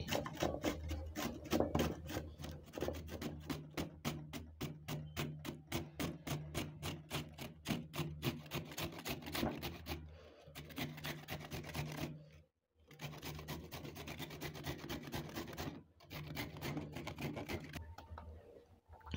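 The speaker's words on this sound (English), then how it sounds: "I have my carrot, as you can see. Okay, I can choose to grate it" A carrot scraped over a grater in fast, steady rasping strokes, a long close run of rhythmic scratching with a couple of brief pauses.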